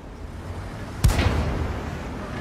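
A tank gun in a video game fires a single loud, sharp boom about a second in, followed by a fading rumble over low background noise.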